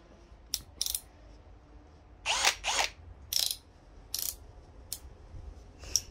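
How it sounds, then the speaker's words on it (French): A Parkside Performance PSBSAP 20-Li cordless hammer drill in percussion mode, heard as several short, loud, close bursts of high rattling drilling separated by brief pauses. "on perce, et là, on a la percussion"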